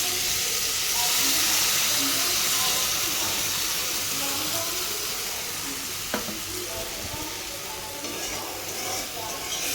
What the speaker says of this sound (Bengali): এই পেস্টটা আমি এখন দেব তেলে।